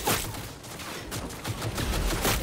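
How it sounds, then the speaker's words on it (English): Enemy gunfire in the video game Cyberpunk 2077, a dense, continuous volley of rapid shots with no pauses, loud and close throughout. "They're shooting at me."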